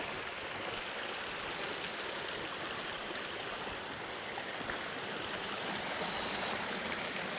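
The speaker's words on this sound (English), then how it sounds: "Can you hear me over the waterfall?" A small waterfall splashes continuously, a steady rushing hiss of falling water close by with no voices.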